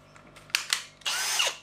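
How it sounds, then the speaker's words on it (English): A cordless power drill whirs in short bursts while holes are bored in a 1000-litre intermediate bulk container to fit windows: two quick blips, then a sustained half-second run, close and clear. "I've got to drill 15 holes."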